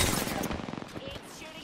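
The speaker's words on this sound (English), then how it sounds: "It's shooting at me." Automatic gunfire in Apex Legends, a quick rattling burst of shots that tails off over under two seconds, fairly quiet with a voice nearby.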